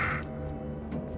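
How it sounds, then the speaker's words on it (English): A single crow caw in the Little Hope video game, harsh and fairly loud at the start, with a fainter second call near the end over a low ambient background, no talk. "That's a bird."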